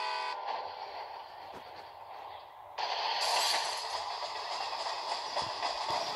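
A train rumbles along inside a crash-simulation video game, a steady loud rolling roar with a horn-like tone that swells midway and keeps going, with no voices.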